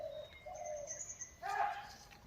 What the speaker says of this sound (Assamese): দেখিছেনে আপোনালোকে চৰাই পোৱালি